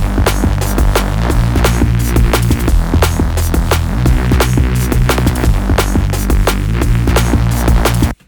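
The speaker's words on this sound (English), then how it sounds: "I've got like a Reese bass set up here with a little melody on it" A drum and bass loop plays loudly and continuously, a deep buzzing Reese bass carrying a small melody under fast, busy drum hits that stop abruptly at the end.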